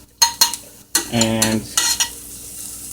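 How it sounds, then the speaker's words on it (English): Garlic hits a hot pot with a sharp sizzle, broken by a few clattering stirs of a utensil against the pot; a brief spoken word sits among the cooking sounds. "I add the garlic to the pot"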